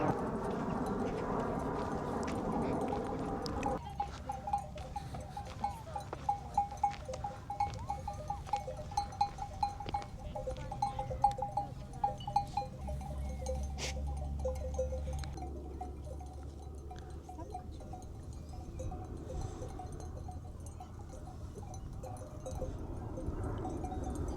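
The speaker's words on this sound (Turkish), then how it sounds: "koyunların arasına dalmış vaziyette." A flock of sheep in an open outdoor field, with many hooves clattering in uneven bursts and faint scattered bleats at a moderate distance, plus low background noise and no clear speech.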